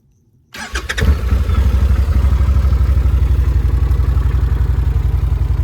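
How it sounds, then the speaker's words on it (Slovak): A CFMOTO X1000 G3 ATV engine cranks and fires after a brief silence, then settles into a loud, steady burbling idle with rapid rhythmic pulses, close to the microphone. "Ten zvuk krásny, motorček si bubloce."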